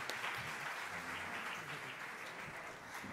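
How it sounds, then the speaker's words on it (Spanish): Audience applause for the speakers at a tarot congress, a dense, steady wash of many hands clapping that holds evenly throughout with no voices over it. "un aplauso para ellos"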